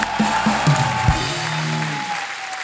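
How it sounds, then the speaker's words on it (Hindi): Studio audience on a Hindi television chat show applauds guests with a steady, moderate wash of clapping, with some brief low voice-like tones early on. "बहुत जोरदार तालियां हो जाए हमारे मेहमानों के लिए।"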